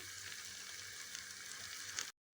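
Marinated chicken being mixed with spices in a pan for chicken sukka handi gives a steady, close hiss of sizzling that runs evenly for about two seconds, then cuts off abruptly into silence.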